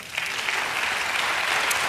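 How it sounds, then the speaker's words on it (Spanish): A church congregation claps together in praise, a brief burst of dense, even applause filling the space. "Dale un aplauso al Señor"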